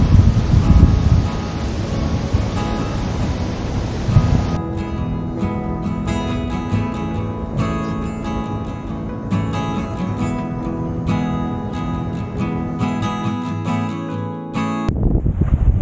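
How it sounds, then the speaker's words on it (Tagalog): Strong wind roars and gusts steadily across the whole stretch on a bikepacking loop in Catanduanes, a dense buffeting noise that drops off abruptly near the end before returning. "Sobrang lakas ng hangin."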